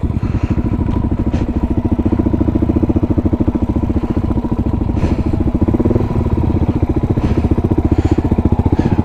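A motorcycle engine running steadily close by, a loud continuous thrumming putter with slight rises in revs as gas is given, no talk.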